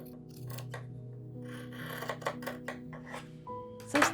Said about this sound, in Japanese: 今度ね、5ミリぐらいの縫い代にカットします。